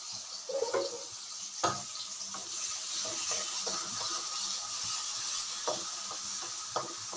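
Onions sizzling in hot oil in a home kitchen pan for pepper chicken gravy, a steady soft frying hiss with occasional clinks and stirring taps, no voices.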